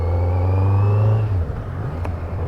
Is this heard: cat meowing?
no